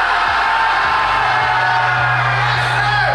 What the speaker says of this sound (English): I want all of you to scream